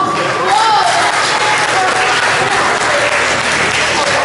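An audience at a youth centre's fifth-anniversary show breaks into steady, dense applause, loud and sustained throughout with a few cheers mixed in.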